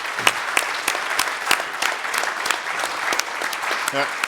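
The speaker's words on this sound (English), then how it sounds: "So can we applaud these two tables of young folks?" Audience applause for two tables of young people at a civil rights and economic empowerment event in Cleveland, a steady patter of many hands from start to finish, with a brief voice surfacing near the end.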